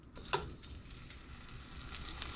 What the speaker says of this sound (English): And you should hear that sizzle right away.